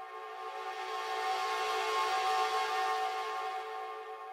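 Sustained synth chord built from two detuned saw waves, thickened with heavy reverb and OTT multiband compression; a bright, dense harmonic tone swelling slightly and holding steady for several seconds, alone with no talk.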